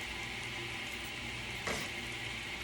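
Rice sautéing in oil in a pan over medium-high heat, a faint, steady sizzle with one brief stir or scrape partway through.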